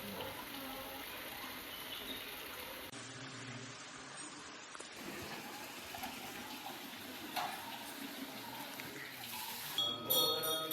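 Water pours steadily down from a Gaumukh cow-mouth spout at an old temple in a sacred grove in Konkan, a continuous close gushing splash that runs without a break, with no talk.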